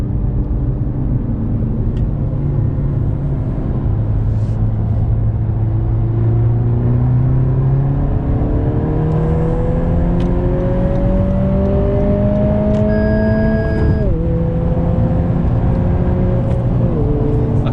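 A 2020 Honda Civic Si engine pulls in third gear from about 3,000 RPM with sport mode off, a steady droning rev climbing smoothly in pitch, dipping briefly at a shift-like break, then rising again, heard from inside the cabin.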